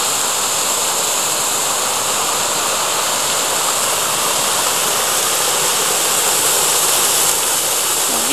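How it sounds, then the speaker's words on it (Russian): A small waterfall beside an old working water mill in Oboyan, Kursk region, Russia, gives a loud, steady, close rushing roar of falling water that stays constant throughout, with no voices. "Видите, такой водопадик."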